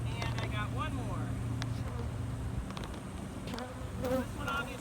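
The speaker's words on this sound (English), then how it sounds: "This one obviously has a little bit bigger population of bees." Dense, continuous buzzing of many honey bees close by during a hive install, with a person speaking quietly over the hum.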